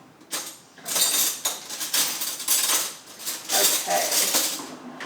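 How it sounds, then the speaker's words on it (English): Metal cutlery rattles and clinks repeatedly as a small spoon is pulled out of a drawer, a close, busy series of bright jangling knocks and scrapes over several seconds. "Let's get a little spoon out."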